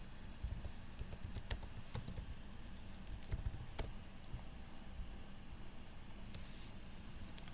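Someone types ipconfig/all on a computer keyboard, producing quiet, close key clicks in an uneven rhythm over a soft steady background hiss.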